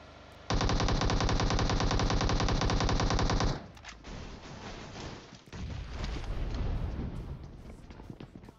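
Mk14 rifle firing a long rapid burst of evenly spaced, loud shots in PUBG Mobile, the fire stopping abruptly and giving way to quieter game ambience and scattered noise.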